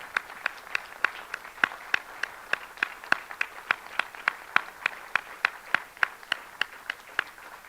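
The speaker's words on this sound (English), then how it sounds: "We'd like to give everybody a round of applause." Rhythmic clapping at a board of education meeting rings out in a steady even beat, a couple of sharp hand claps per second repeating for several seconds.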